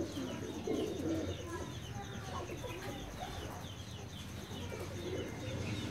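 A Teddy pigeon coos softly and repeatedly at close range, its low calls heard over faint background noise.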